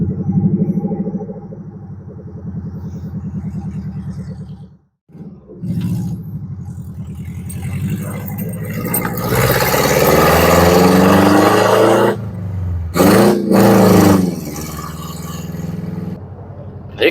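A 1988 Subaru Loyale car engine pulls away under its own power, a loud, close rumble that cuts out briefly, then rises and strains as the car moves off, with a short lull near the end.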